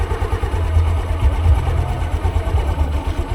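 A motorcycle engine idles with a steady low rumble, its pitch and load shifting slightly as the clutch engages; no voices.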